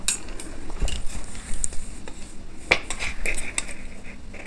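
A 40-inch double katori blouse pattern is cut by hand, giving sparse, light metallic clicks and snips at an uneven pace against a quiet room.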